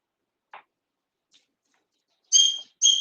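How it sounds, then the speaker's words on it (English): A pet green yellow-cheeked conure named Bingo gives two short, sharp, shrill calls in quick succession, close and fairly loud, after near silence with only faint small ticks. "So conure of some sort, green, yellow cheek conure or something like that"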